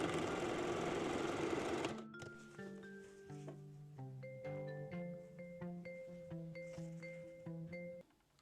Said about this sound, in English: use just a regular zigzag stitch to stitch the elastic edges together